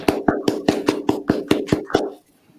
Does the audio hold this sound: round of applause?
yes